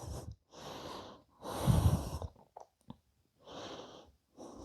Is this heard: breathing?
yes